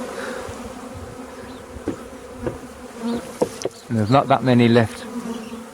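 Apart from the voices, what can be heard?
swarm of honeybees buzzing on a branch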